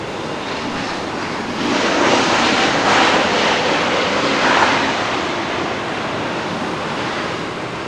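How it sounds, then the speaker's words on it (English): A NetJets private jet arriving at Dallas Love Field after a short hop from Fort Worth's Meacham Field gives a loud, steady engine roar that swells in the middle and then eases, heard alone without talk. "It's a NetJets."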